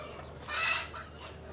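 Chickens cluck near a place where fermented fish-head feed is being prepared, a short burst of bright clucks rising and fading within a second and a half over steady background noise.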